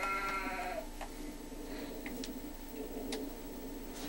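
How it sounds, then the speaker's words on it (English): Bighorn sheep bleating in Cabela's Big Game Hunter video game, a single nasal bleat near the start over a steady game soundscape with faint ticks scattered after. "Bighorn sheep"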